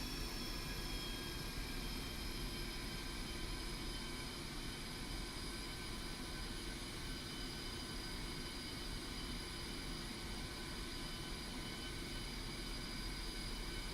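An aircraft taxiing toward the runway in the DCS flight simulator gives off a steady, low engine rumble with a faint high whine on top, constant and unbroken with no voices.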